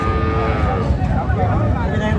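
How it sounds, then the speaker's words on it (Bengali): Cows and calves at a busy village cattle market in Dinajpur, with a low sustained moo close by over a dense crowd rumble and background voices. "গাভী বাছুর আমরা দেখছিলাম এখানে"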